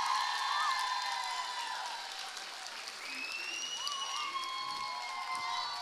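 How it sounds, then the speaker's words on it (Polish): Audience applause for dance instructors at a dance event in Płońsk fills the clip, broad and steady with whoops and cheers rising over it, loud throughout its length. "A teraz takie same wielkie brawa dla wszystkich instruktorów"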